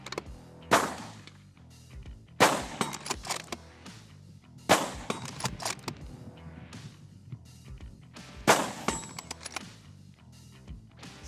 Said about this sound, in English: So we're going to take 10 shots at a steel target